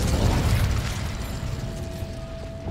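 The Incendio fire spell cast in Hogwarts Legacy, a loud low whooshing burst that gives way to a steady crackling, mechanical-sounding rumble with a faint sustained tone, no voices.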